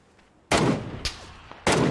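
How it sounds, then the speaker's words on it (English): Gunshots from a top-left window in the PUBG video game: three sharp, reverberant cracks spaced about a second apart, fairly loud, with no talking. "Top left window just shot."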